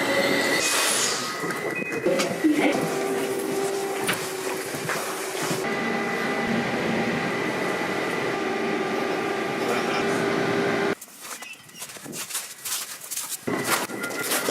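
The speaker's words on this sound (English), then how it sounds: "Well, that's my train." A train rolls into Bad Endorf station with rumbling wheels and high metallic squeals and hisses as it slows, and the loud din drops off abruptly near the end.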